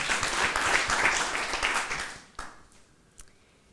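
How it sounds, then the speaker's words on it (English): Audience applause for a reader introduced at a literary evening, a broad steady clapping that fades after about two seconds into a few scattered claps. "Please give a round of applause for Félicité Duchère."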